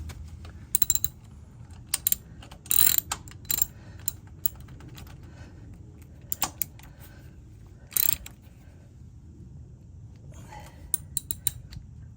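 A ratchet tightens bolts on the engine guard of a 2024 Harley-Davidson Lowrider ST motorcycle, giving short bursts of metallic clicking separated by pauses, close up over a quiet background.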